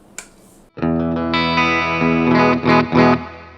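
FGN BIL2-M electric guitar on its bridge pickup, played through distortion: a loud, thick chord rings out and sustains, then is struck again a few times, with no voices.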